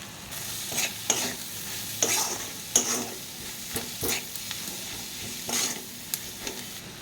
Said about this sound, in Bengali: পেঁয়াজ রসুন টমেটোটা খুব ভালো করে ভেজে নেব